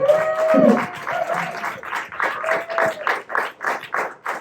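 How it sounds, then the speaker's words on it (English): An audience at a film Q&A for the documentary Bella! This Woman's Place Is In The House claps for the filmmakers. A voice speaks at the start, then the clapping carries on in a fairly regular, pulsing rhythm. "Let's give them a round of applause again."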